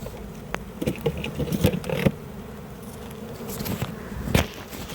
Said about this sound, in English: You've got a few bees out here orientating, going what's going on